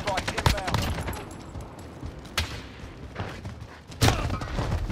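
Sniper and other gunfire in a video game: a string of sharp shots and rapid bursts, loudest at the start and again near the end, with quieter stretches between.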